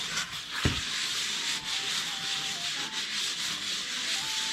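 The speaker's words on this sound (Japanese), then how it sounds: "8の字を描くように研磨してください" A Honda NSR50 moped piston is hand-sanded on wet-and-dry paper laid over a flat board, moving in figure-eight strokes. The steady, continuous gritty rasp is close and loud, with no talk.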